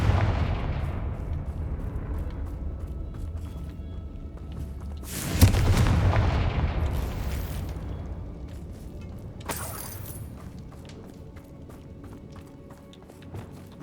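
Loud blasting-spell explosions from the Hogwarts Legacy video game: one heavy boom with a long rumbling decay, then a second sharper blast, set among fainter in-game mechanical noises and steps.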